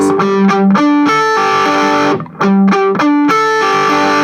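Distorted electric guitar chords chug in short, palm-muted bursts, with a brief gap before the choppy pattern resumes, loud and up close.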